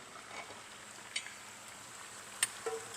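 Onions frying in a pan while making homemade boudin, a faint low sizzle with a few sharp scrape and clatter accents near the end.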